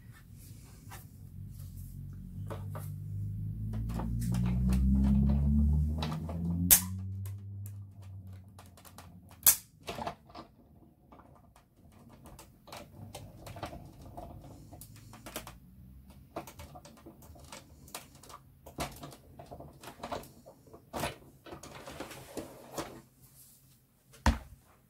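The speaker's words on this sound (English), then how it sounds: "it just goes through the die cutting machine as normal" A die cutting machine runs a die through with a low rolling rumble near the start, which then fades into scattered small clicks and handling taps, close by and fairly quiet.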